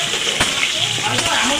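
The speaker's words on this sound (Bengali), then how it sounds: "গরম তেলের মধ্যে আলু দিয়ে দেবো। আলুটাকেও ভেজে নেব।" Salted potatoes fry in hot oil for a Bengali bhetki fish-bone dish, giving a steady, close, crackling sizzle that holds evenly throughout with a few brief louder pops.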